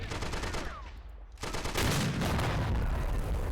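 Artillery piece in the Army Men: Plastic Wars video game firing amid battle noise, with loud, dense blasts and rumbling gunfire that swell and keep going after a brief dip.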